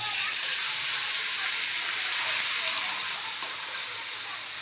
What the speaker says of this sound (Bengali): লোটে মাছ মাখানোটা আস্তে করে ছেড়ে দেবো